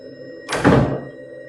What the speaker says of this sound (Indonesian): Siapa sih ngetok-ngetok?